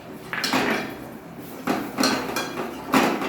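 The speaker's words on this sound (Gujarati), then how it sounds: "દહીં નાખી અને મસ્ત હલાવી લઈશું" Spoon scraping and clinking against a metal pan while curd is stirred into half-cooked onions, three separate bursts of clattering strokes, close and fairly quiet with no talking.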